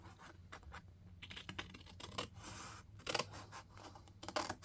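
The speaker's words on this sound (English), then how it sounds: "We're going to cut up to the 2-inch score line in the center." Scissors snip through scored cardstock in a quiet craft setting, giving a series of short, faint scratchy cuts close to the microphone.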